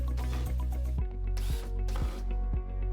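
A driver sets number 8 by 3/4 inch truss head screws through a pullout waste container frame into a cabinet floor, a continuous close mechanical whir with rapid, regular ratcheting clicks and brief pauses.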